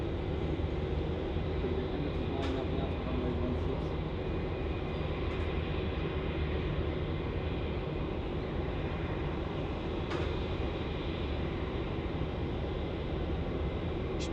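An Emirates Airbus A380 airliner lines up on runway 16 at Melbourne Airport, its engines giving a distant, steady low rumble under faint background noise, with a few brief clicks and no talk.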